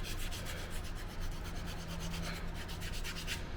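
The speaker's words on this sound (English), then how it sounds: "Now I'm going to take and sand that to get rid of any of the little points that the cuts left." Leather cuff hand-sanded with 320 grit sandpaper: a steady, close rasping rub made of quick repeated strokes, heard alone with no talking.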